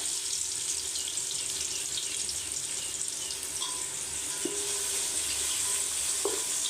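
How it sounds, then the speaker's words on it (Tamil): Onions being sautéed in a pan for prawn biryani, a steady soft sizzle with a faint watery hiss running throughout, close and continuous with no talking. "இது நல்லா பொன்னிறமாக வதக்கிடுவோம்"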